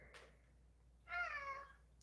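A house cat gives a single clear meow partway through after a short faint chirp, quiet and close in a calm indoor space with nobody talking.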